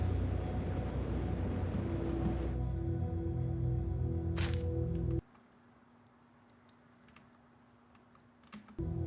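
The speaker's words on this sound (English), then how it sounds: "A little distracting to crickets in the game and also outside my window." Crickets chirp in the Outer Wilds video game and outside a window, a thin steady high trill running through the whole stretch over game noise that drops abruptly to a quieter bed halfway through.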